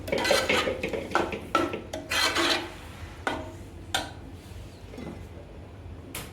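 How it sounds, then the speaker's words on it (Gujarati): Repeated scraping and clinking of a spoon stirring garam masala into mung bean curry inside a metal pot, in quick irregular strokes that grow sparser and quieter toward the end. "ગરમ મસાલો નાખી દઈશું આપણે એને પણ મિક્સ કરી નાખશું"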